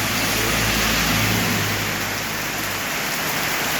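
Heavy rain pours steadily during Typhoon Inday in Iloilo, a loud, dense, unbroken roar of water hitting surfaces that fills the whole stretch without pause, with no voices.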